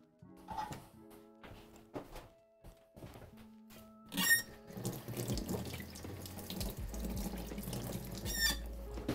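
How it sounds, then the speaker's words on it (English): A kitchen tap runs into a sink filling with soapy water, starting with a few clunks and drips, then a steady, close gushing stream that grows fuller as the basin fills, with no talking over it. "Sam's literally filling it right now"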